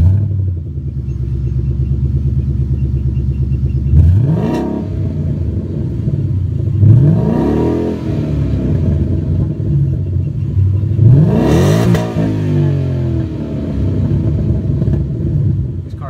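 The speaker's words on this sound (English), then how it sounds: "This car's also equipped with a cat-back Flowmaster exhaust system, and it's really loud." A tuned 2012 Ford Mustang 5.0 with a loud Flowmaster cat-back exhaust idles with a deep rumble, then revs sharply three times, each blip rising and falling back to a burbling idle, close and loud.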